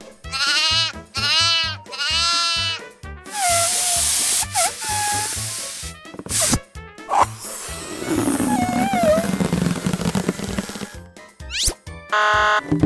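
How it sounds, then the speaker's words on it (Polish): A farm goat bleats several times in quick wavering cries near the start, then gives way to a busy mix of other sounds with bursts of noise and tones that continue to the end. "koza,"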